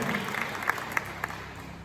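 Audience applause at a children's Christmas awards event in Haiti, a steady wash of clapping with a few sharper individual claps standing out, fairly faint and continuous without speech.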